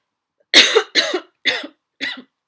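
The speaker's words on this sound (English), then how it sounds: "I feel like I want to cough." Four short, harsh coughs in a row, evenly spaced and close, with brief silences between them.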